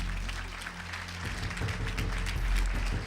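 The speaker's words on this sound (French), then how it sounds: "On les applaudit tous les 5 bien fort" Audience applause at a L'Oréal-linked awards ceremony, a dense sustained roomful of clapping that swells slightly toward the end, with no speech.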